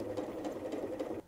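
A sewing machine stitches along the edge of a fabric drawstring bag's lining, a steady mechanical whir with a soft repeating rhythmic pulse that runs for about a second before cutting off abruptly.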